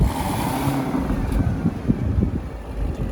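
A supercharged LT5 V8 in a Corvette ZR1, set to tour mode, idles with a steady, deep, throaty rumble. Small uneven pulses ripple through the drone, loud and close, with no voices.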